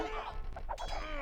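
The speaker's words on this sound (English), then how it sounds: "Ringing the bell there." In the strategy game Age of Empires, a town bell rings out with a clanging, resonant metallic tone that sustains and rings on over a busy game soundscape.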